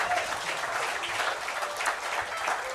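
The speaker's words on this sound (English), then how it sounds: "Give a nice round of applause from way down in Coleman" Audience applause at a country and bluegrass radio show for David Davis from Coleman, Alabama: a steady, even wash of many hands clapping, moderately distant and sustained throughout.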